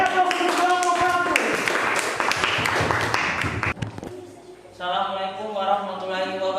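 A burst of clapping from a classroom audience, dense and fairly close for a few seconds before fading, with tonal music or voices before and after the applause.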